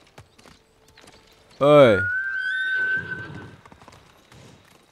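A horse neighs loudly and briefly in the video game Ghost of Tsushima, followed by softer hoof clops and a short shout, with a thin electronic tone running underneath.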